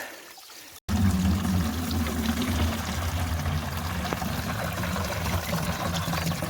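Water pours steadily into a container outdoors at a farm nursery, a continuous close splashing rush that starts abruptly after a brief quiet moment and holds without talk.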